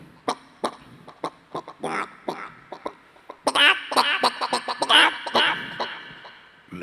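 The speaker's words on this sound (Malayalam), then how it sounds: "ഈ പിടക്കോഴി ഇങ്ങനെ മുട്ടയിടാൻ വരുന്ന സമയത്ത് വല്ലാത്തൊരു ശല്യപ്പെടുന്ന ശബ്ദമായിരിക്കും" A hen about to lay an egg clucks in a run of short, sharp, regularly spaced calls, then breaks into louder, denser squawking cackles close by.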